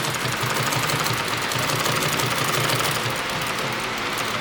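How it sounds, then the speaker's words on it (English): A sewing machine stitching leather for a Lamborghini's interior runs continuously and loudly up close, a steady mechanical chatter with a rhythmic low thump. "the sewing machine will want to sew straight"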